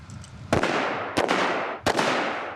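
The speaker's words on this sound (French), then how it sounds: "Des grenades d'entraînement qui contiennent une faible dose d'explosifs." Training grenades, each holding a small explosive charge, detonate three times in a gendarmerie training exercise: sharp, loud blasts spaced about a second apart, each followed by a long rumbling tail, with no talk.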